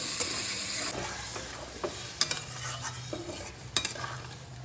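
Fried potatoes being stirred into a sea-fish curry in a sizzling pan, with a spatula scraping and clinking in a few distinct strokes over a soft, continuous fry.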